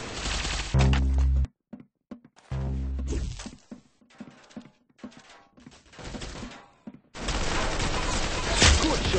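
Gunshots in a first-person shooter video game: several loud, abrupt blasts separated by gaps, with quieter game sounds and faint speech-like noise between them.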